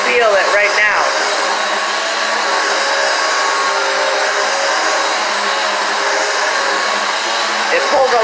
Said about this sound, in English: Super powerful vacuum.